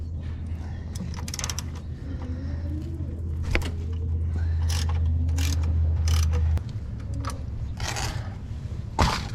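A ratchet loosens the 17 mm oil drain plug on a 2003 Ford F150 with the 5.4 engine, giving close, scattered metallic clicks and clanks over a steady low hum that stops partway through.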